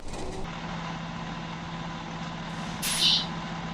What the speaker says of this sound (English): For display purposes, I'm going to pull this truck in straight, even though I should be backing it in.